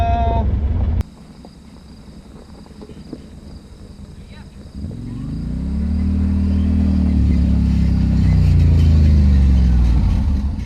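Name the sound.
Yamaha Wolverine X4 side-by-side driving, tires sliding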